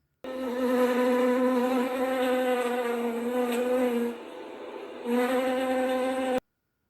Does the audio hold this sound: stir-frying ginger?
no